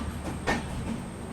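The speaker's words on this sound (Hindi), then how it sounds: "एग्जैक्ट 8 बजे अपना डिपार्चर जो है वो पनवेल रेलवे स्टेशन से हो गया है।" Mumbai Duronto Express pulling out of platform 6 at Panvel railway station, a short steady rumble of rolling coaches with a brief louder clank midway, heard from on board.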